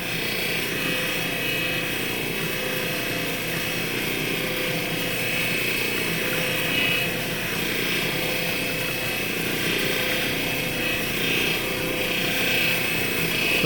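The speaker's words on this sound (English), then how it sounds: "the other one I can use to rotate my stone while I'm holding it up against the polishing wheels" Polishing wheels running while a creek stone cabochon is held against them, a steady loud whirring drone that continues unbroken, with no talking.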